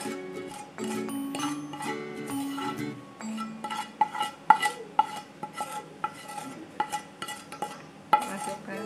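A utensil stirs mashed tempeh with sautéed spices in a pan, giving a run of close clinks and scrapes against the metal, uneven in rhythm, with a soft hum and tonal notes early on and no voices.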